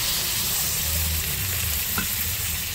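Grated tomato sizzling in a pan for a taro curry, a dense, continuous frying hiss with stirring scrapes and a single clink, close and loud with no talk.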